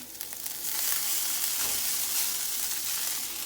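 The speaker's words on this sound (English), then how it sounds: "this is going to start to fry" Ramen noodles fry in a pan with onions, garlic and Spam, giving a loud, steady, close sizzle with faint stirring scrapes underneath.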